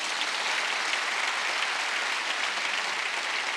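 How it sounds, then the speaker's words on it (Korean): Congregation clapping during a Wednesday church service, a thick, continuous wash of many hands at steady volume with no voices over it. "박수 좀 쳐요"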